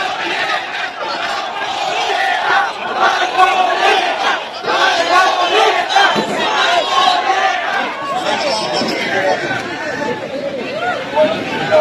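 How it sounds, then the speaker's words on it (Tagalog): A large crowd at a political rally in the Philippines shouts and cheers without a break, a dense and loud mass of voices with chanting swells and nearby chatter mixed in. "Grabe sigawan ng Marcolita oh."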